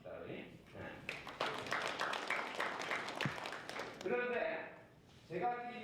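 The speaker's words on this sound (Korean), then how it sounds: "두 분을 위해서 박수 한번 줍시다" A short burst of audience clapping at a merchants' association general meeting swells and then fades, with talking heard before and after it.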